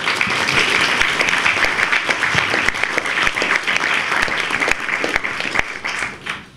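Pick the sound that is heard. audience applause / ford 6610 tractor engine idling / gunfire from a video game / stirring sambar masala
audience applause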